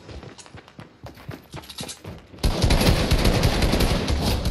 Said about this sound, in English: Oh shit! I'm getting shot.